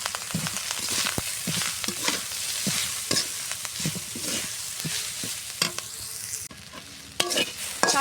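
Young drumstick greens fry with browned onion and garlic, a continuous close sizzle with frequent scraping and clinking stirs against the pan, dipping briefly before resuming.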